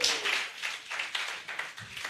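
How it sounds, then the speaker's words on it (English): Scattered applause from an audience at a Lagos masterclass session rises and falls in soft, noisy bursts for a couple of seconds. "So we need to give her a round of applause."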